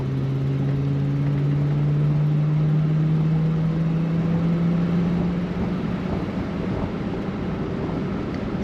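A 1965 Ford Galaxie 500 convertible cruising on the highway, a continuous engine drone with a steady low hum that rises slightly, wrapped in constant wind and road noise, no talking.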